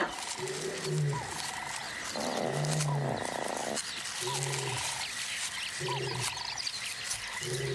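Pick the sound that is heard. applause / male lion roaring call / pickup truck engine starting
male lion roaring call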